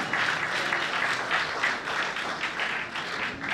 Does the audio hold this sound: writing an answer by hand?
no